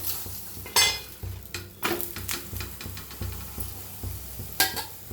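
Chapati cooking on a hot tawa with a little oil, giving soft sizzling beneath repeated scraping and stirring taps of a utensil against the pan, with a few sharper clinks.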